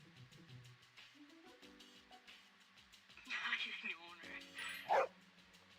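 Koro-chan, the dog in the video game Persona 3 Portable, gives several short barks and yips among game music and voiced dialogue. The loudest, sharpest bark comes near the end.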